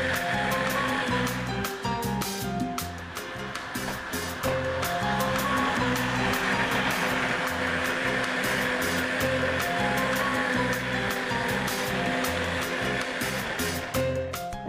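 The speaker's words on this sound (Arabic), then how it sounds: "تعالوا بقى نضرب الخليط الحلو ده تاني" An electric blender runs steadily with a loud, continuous whir, whipping a seasoned fish mixture with pepper and fish spices in a home kitchen, and the motor holds a constant drone for the whole stretch.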